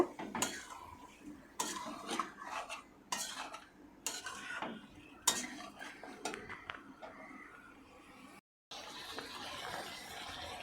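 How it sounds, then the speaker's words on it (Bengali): Cumin and coriander paste gets stirred into chicken in a pan for chicken rezala, a metal spoon scraping and clattering in close irregular bursts, with a brief dropout near the end. "ভালো করে আবার এটাও নাড়িয়ে চাড়িয়ে মিশিয়ে নেব।"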